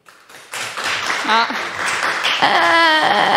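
Audience applause swells after a quiet start, with a voice calling out over the clapping and some laughter.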